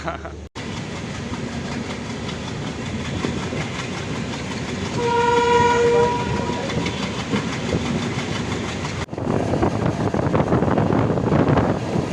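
The Pallavan Express passenger train runs between Chennai Egmore and Karaikudi, heard from on board as a continuous rumble with clickety-clack of wheels on rails and a sustained horn blast midway, growing louder toward the end.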